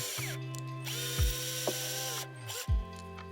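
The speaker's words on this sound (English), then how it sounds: "Take an 8 millimeter diameter tap and cut a thread in the hole." An 8 mm tap cutting a thread into a hole in laminate, close rhythmic ratcheting and grinding with a few sharp clicks and short pauses between turns, no voices.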